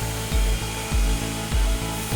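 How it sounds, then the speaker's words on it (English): A knife blade is honed against a finely tuned sanding belt in a knife factory, a steady whirring grind broken by regular rhythmic swipes, one side and then the other. "holding the blade steady at a precise angle against a finely tuned sanding belt"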